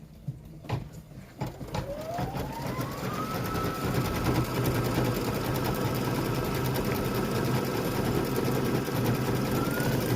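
A sewing machine stitches a dense satin stitch border on a fabric mug wrap, its motor whine rising in pitch as it speeds up and then holding a steady, loud, continuous hum with rapid needle clatter.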